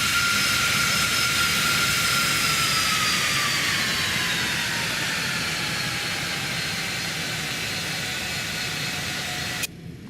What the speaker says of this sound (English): It's a big plane, the Citation X. It's a big private jet.